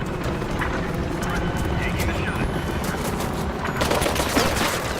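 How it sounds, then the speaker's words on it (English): Gunfire from a VTOL aircraft rattles at the player in Mirror's Edge Catalyst, a dense, continuous spray of rapid shots under running footsteps, steady and fairly loud throughout. "I'm getting shot by the VTOL now."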